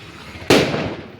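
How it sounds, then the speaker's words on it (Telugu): One sharp, loud firecracker bang bursts out close by at a family gathering, then rings and crackles away over the following moments. "టపాసులు కాల్చడానికి రెడీ అయిపోయారు"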